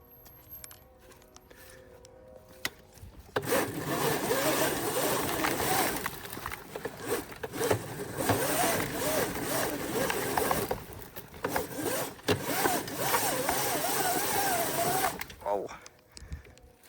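Razor MX650 electric dirt bike churning through mud, a steady loud whine and splattering roar lasting most of the stretch, starting abruptly after a quieter opening and dropping off near the end.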